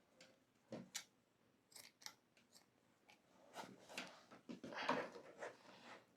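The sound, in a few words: scissors cutting yarn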